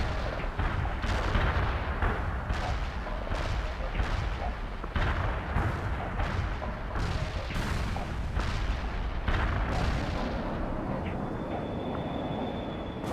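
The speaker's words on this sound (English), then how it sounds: "Iceman heading out with cluster bombs" Cluster bomb air strike in the video game World in Conflict: a loud, continuous wall of rumbling blasts and rolling booms with repeated sharp impacts, and a faint high tone near the end.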